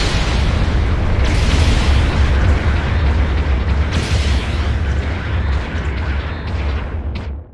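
A heavy explosion from a mobile suit being destroyed in a Gundam video game, loud rumbling boom with further bursts around one and four seconds, fading out at the end.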